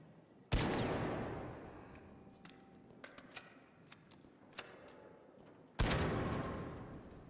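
Two loud, sharp shots from a Pharaoh gun in the video game Arc Raiders ring out several seconds apart, each with a long decaying tail, with faint clicks and small impacts in between.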